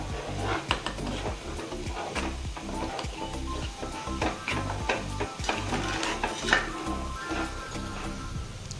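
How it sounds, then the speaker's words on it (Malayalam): Prawns being stirred in a pan with chilli powder, turmeric and salt for a coconut-chunk prawn roast, giving a close rhythmic scraping and soft sizzle that repeats steadily without speech. "നന്നായിട്ട് എല്ലാം കൂടി കൂട്ടി യോജിപ്പിച്ച് കൊടുക്കുക."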